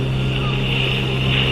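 A steady boat engine drone hums continuously with a low rumble and a higher whine, without pauses or changes in pace.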